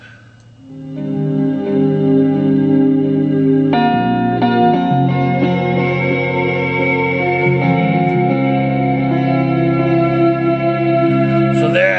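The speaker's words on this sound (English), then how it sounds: "clean guitar sound going right through the deluxe reverb with no effects" A clean electric guitar plays through a Fender Deluxe Reverb amp with no effects, sustained, ringing chords and notes with a lush reverb tail, steady and fairly loud with no distortion.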